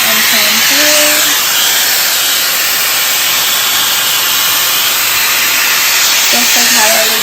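A Shark FlexStyle air styling and drying system running, a loud steady high-pitched blowing hiss held continuously up close, with brief faint tonal blips at the start and end.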